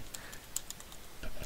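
Light typing on a computer keyboard, a few soft scattered key taps at close range, fairly quiet.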